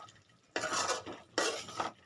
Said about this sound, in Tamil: போட்டுட்டு ஒரு கிண்டிக்கோங்க